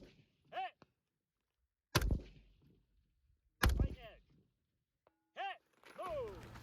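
Rifle shots fired at targets from prone beside tank traps in a high desert, two sharp, loud cracks spaced apart, with quieter mechanical clicks and brief noises between them.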